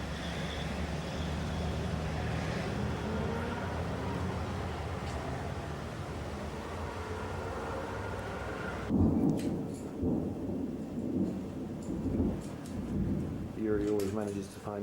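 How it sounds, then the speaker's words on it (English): Thunder rolls from a storm over a city seen from a balcony, a long deep rumble under rain, then sharper loud claps with traffic noise and a voice speaking over it. "I've never heard such violent claps of thunder."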